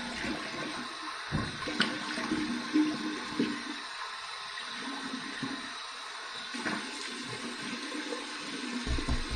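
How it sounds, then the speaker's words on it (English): Warm water running from a tap for a shaving rinse, a steady near rush of flowing and splashing water with small clinks and shifts as hands move under the stream. "Here's my warm water rinse."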